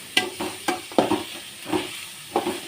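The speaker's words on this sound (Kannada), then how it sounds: "ಈರುಳ್ಳಿ ಎಲ್ಲ ಸ್ವಲ್ಪ ಫ್ರೈ ಆಗಬೇಕು ಚೆನ್ನಾಗಿ" Onions fry in hot oil for egg rice, a soft sizzle broken by several sharp clanks and scrapes of a spoon stirring in the pan.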